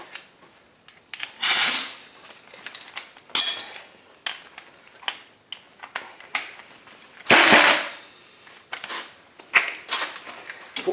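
Ratchet and wrench work loosening the 14mm caliper slide bolts on a 2016 Kia Sorento front brake: a run of sharp metallic clicks and clacks with several louder bursts of rasping mechanism noise, close by, no talk.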